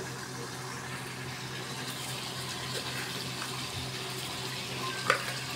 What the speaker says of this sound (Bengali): এবারে এই মশলাটাকে খুব ভালো করে কষিয়ে ভাজতে হবে